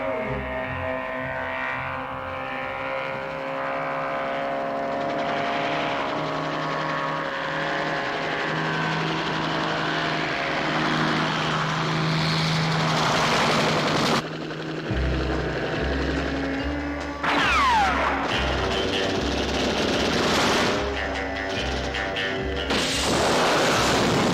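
Helicopter used in a James Bond film flying around, a sustained rotor and engine drone that swells and shifts in pitch over about twenty seconds, with abrupt cuts between passes.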